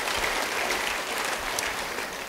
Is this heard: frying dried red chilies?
no